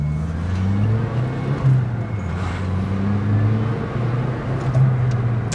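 A JDM car pulling hard through its gears, heard from inside as a steady, loud low engine drone with rising and shifting harmonics across several seconds, no speech.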